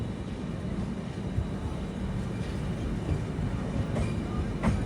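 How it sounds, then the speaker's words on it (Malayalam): A Humsafar Express from Agartala to Bengaluru runs at about 130 km/h, a steady loud rumble of wheels on rails with faint clickety-clack and occasional higher squeals, heard from inside the moving train. "ട്രെയിൻ ഇപ്പം 130-ലാണ് പോകുന്നത്."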